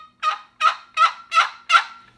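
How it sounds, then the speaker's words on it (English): A turkey call paddle rubbed with rosin gives five evenly spaced, crisp yelps, loud and close, each a short raspy stroke. "It's good, crisp sound that you get when you use a rosin like this."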